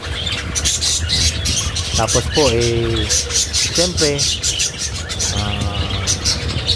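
Pet parakeets chirp and squawk noisily before feeding, a cluster of sharp, close calls over a dense chattering flock, while a person speaks briefly.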